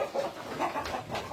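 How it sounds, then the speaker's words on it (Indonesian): Ayam sentul, a fighting breed descended from jungle fowl and raised as egg layers, clucking on a farm in a short run of soft, close calls. "Aslinya ayam petarung, ayam hutan, ayam sentul, kemudian di ternak."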